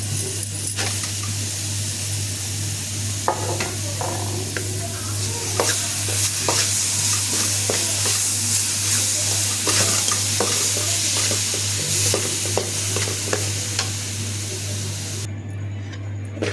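Carrot and semolina (bombay rava) frying in oil and ghee, stirred steadily in a pan, with a continuous close sizzle and repeated scraping, clinking stirring strokes throughout, no talking.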